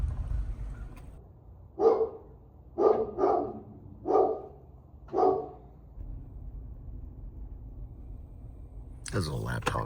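Small lap dogs bark in a rapid series of five sharp yaps spaced about a second apart, moderately close over steady vehicle or engine hum, followed by a burst of other noise at the end.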